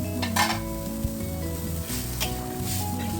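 Tomatoes and green chilies added to a simmering rui fish curry with vegetables, giving a close steady sizzle with stirring and a light clink of utensil on pot, under background music and without speech.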